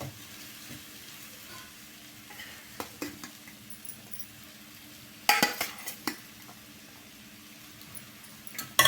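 Mango rice stirred in a pan, soft sizzling under scattered scraping clicks of a spoon against the metal, with a louder clatter of strokes in the middle and no talking.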